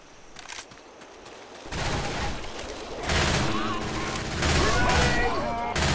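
Machine gun fire in the Left 4 Dead 2 VR mod, bursts of rapid shots building in loudness over several seconds amid game noise, with a voice talking underneath.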